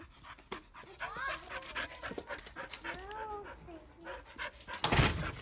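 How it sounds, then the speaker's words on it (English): A dog pants and whimpers indoors in a lively household, with rapid breathy panting mixed with whines, close and moderately loud, under overlapping talk from a child and adults. "Chill, dog. Chill."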